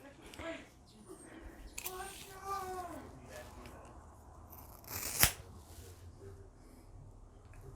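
Scissors snip through hair during a feathered haircut, with one sharp, distinct cut standing out amid soft handling noises and faint background sounds.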